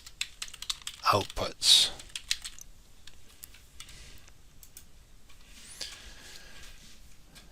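Short bursts of clicking keystrokes on a computer keyboard while a folder name is typed, quiet and close, with a brief spoken word partway through.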